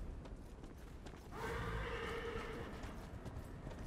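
A horse in the video game Darksiders Genesis gives a loud whinny midway through, with hoofbeats over a steady game soundscape.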